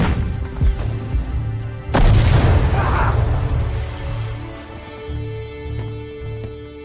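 A tank cannon fires and an explosion follows in a dramatic Iwo Jima battle recreation, with a sharp heavy boom near two seconds that rolls off into a long rumbling decay over low droning tones.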